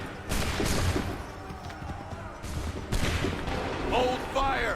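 A musket volley in Assassin's Creed 3 crashes out in several rough, overlapping bursts of gunfire, mixed with battlefield noise and shouted voices.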